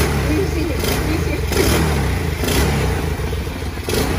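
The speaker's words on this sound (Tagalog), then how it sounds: "Importante, umaandar na yung makina." Motorcycle engine recovered after flooding, idling steadily close by with rough clattering mechanical texture and a few slight rises in revs, loud and continuous throughout.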